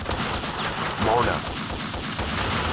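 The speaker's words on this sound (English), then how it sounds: "Nice shot, Mona." Gunfire from the third-person shooter Max Payne 2 in a tense firefight, a dense crackling burst of shots swelling around the middle of a noisy, busy game soundscape.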